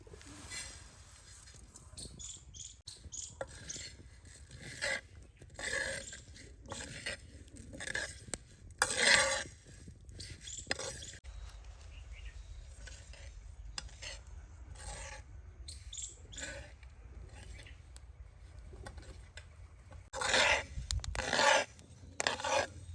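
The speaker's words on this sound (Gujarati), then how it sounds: "પહેલાં આપણે તલને શેકી નાખીએ" Sesame seeds for til laddu dry-roasting in a pan, a steady scratchy rasp and rustle of stirring with a few louder scraping bursts against the metal, close and continuous with no talk.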